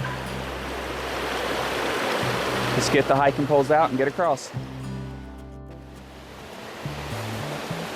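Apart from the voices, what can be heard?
creek flowing at a hiking trail crossing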